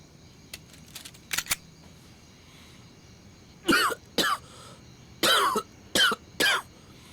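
Several sharp coughs in two clusters, with a few softer throat sounds early on, close and clear against a quiet background.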